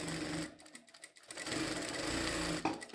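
A RUBINA RB-9400E-D4 industrial lockstitch sewing machine runs in loud bursts of rapid mechanical stitching, pausing briefly before running again, close and filling the space.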